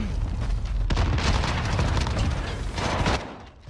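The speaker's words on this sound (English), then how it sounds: "He's shooting his body." Dense automatic gunfire and booming shots from a Modern Warfare match fill the clip, loud and continuous before cutting off near the end, with no talk over it.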